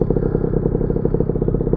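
A Yamaha Jog scooter engine idling, a close, loud, steady two-stroke putter with rapid even pulses and light mechanical clatter, no voices.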